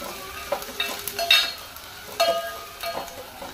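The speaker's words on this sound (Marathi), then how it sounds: "ओके, मातशें 1 मिनिट ताका फ्राय करूया." Curry leaves frying in a pan, a steady close sizzle with a few crackles and light stirring scrapes, no voices.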